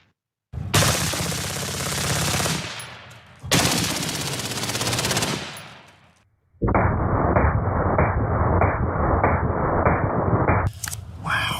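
Rifle gunfire from an AR-15 in a ballistics demonstration: two long, loud sustained bursts of rapid shots, then a tighter, steadier stretch of rapid automatic-sounding fire, all close and with no talking.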